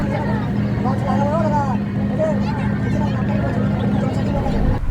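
A passenger launch on the river near Mayapur: a steady, loud engine drone with continuous water wash under it, while people talk nearby throughout.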